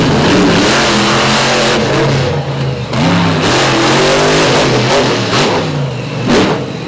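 A Chevy drag truck's engine roars loud and sustained on a qualifying run at a drag racing event, a dense continuous rumble whose pitch rises and falls with revving, heard alone without talk.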